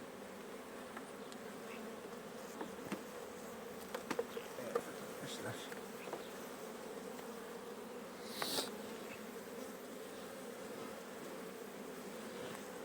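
Honeybees buzzing around a hive, a steady dense drone with many insects passing close by, and occasional louder individual buzzes.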